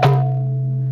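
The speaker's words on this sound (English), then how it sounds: "Kheta Gur Gur Ja, it sounds like this." A mridanga drum gives a single resonant stroke with a deep booming tone that rings and slowly fades, close and alone.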